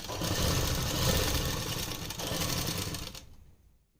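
A sewing machine runs steadily while stitching elastic onto a ladies' trouser waist, a loud continuous whirring for about three seconds before it winds down and stops.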